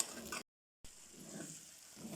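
Moong dal frying in a pan with soft, steady sizzling and the scrape of a spoon stirring to keep it from sticking, faint and close, broken by a brief gap of silence.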